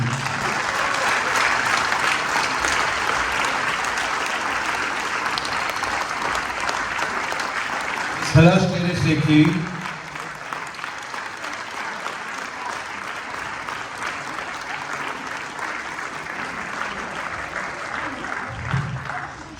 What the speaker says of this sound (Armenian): Ուզում եմ մի հատ բարձր ծափահարենք այս թիմին